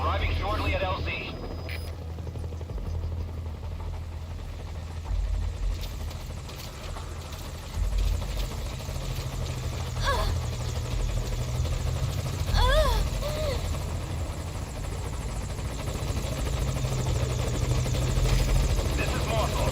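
Military transport helicopter in the Metal Gear Solid V: Ground Zeroes game, its steady low rotor thump building and swelling louder as it arrives at a landing zone, with radio-style talk over the top.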